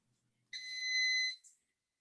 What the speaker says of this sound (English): that was my timer for my bread